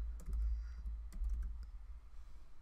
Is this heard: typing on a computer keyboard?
yes